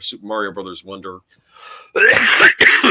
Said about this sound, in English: Sorry, that was a cough.